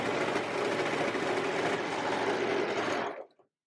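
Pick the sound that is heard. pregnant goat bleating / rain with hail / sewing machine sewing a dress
sewing machine sewing a dress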